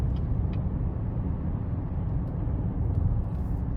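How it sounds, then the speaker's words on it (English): A 2023 Chevrolet Traverse RS with a 3.6 engine and 9-speed transmission drives on the road, producing a steady low engine and road rumble from inside the cabin, constant and even. "we're going to go ahead and take this Traverse RS out on the road for a quick test drive"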